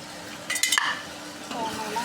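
Meat being browned in a pan gives a soft sizzle under a few quick scrapes of a spatula, with a brief clatter midway, close and moderately loud.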